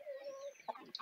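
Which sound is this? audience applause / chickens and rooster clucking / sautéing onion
chickens and rooster clucking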